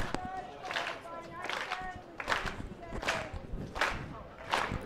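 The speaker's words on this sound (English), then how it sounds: "The crowd's getting involved, getting him over the line" Athletics crowd at a championship meet clapping in a steady rhythm for a jumper, a train of sharp claps about every half second, loud and close, with a commentator talking over it.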